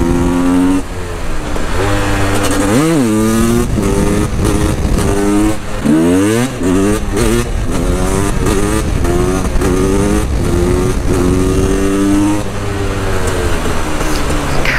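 A KTM EXC 300 two-stroke motorcycle revs hard on a closed airfield runway, its engine sweeping up and down in pitch through repeated throttle blips and gear changes, loud and close throughout.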